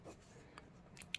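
A pen writes on paper while a Class 8 maths exercise is worked out: a brief, faint run of light scratchy strokes with a tiny tap near the end, quiet and with no talk.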